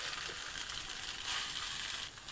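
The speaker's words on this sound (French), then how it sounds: "on commence par mettre de l'huile dans notre poêle avant d'y jeter notre tofu et haché végétal" Tofu and vegetable mince fry in oil in a pan for a vegan burger, a soft, even sizzle that swells briefly midway and stays fairly faint, with no speech.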